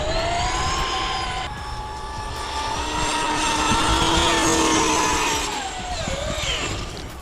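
A Traxxas X-Maxx RC car with an upgraded XC ESC motor screams at full throttle, a loud high-pitched whine that rises and falls as the car speeds past outdoors.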